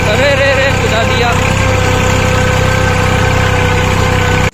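A Swaraj 735 tractor engine runs steadily with its rotavator attachment, a loud, close, continuous diesel chug with rhythmic knocking that holds throughout and cuts off abruptly at the end.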